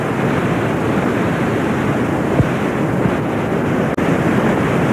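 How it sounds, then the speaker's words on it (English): A vast waterfall pours down beneath a suspension bridge at Paronella Park toward the river below, making a loud, steady roar of rushing water with no voices. "under my feet here, there's a vast waterfall flowing out down to the river and off to the valley below"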